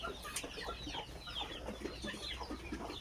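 Around forty backyard laying hens cluck softly in a village coop, a scatter of close, low clucks and chatter over a faint steady background hum.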